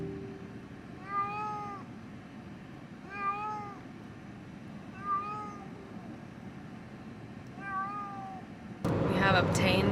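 Barn cats, one male and one female, meow four separate times at an even pace, each call clear and fairly near over a low rumbling background, with a louder burst of noise at the very end.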